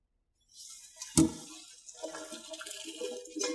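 Hot pasta water is poured out into a sink, a sudden splash followed by a steady rushing gurgle that runs close and moderately loud for a few seconds, with no talking.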